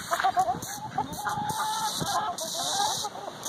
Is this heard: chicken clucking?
yes